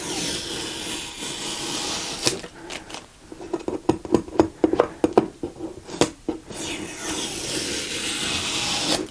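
Frog tape used as transfer tape is peeled back off glass in a series of quick, crackling rips and tugs, with quieter hissy stretches before and after.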